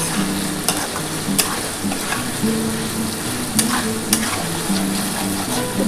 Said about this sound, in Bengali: ভালো করে মশলাটা কষিয়ে নিয়ে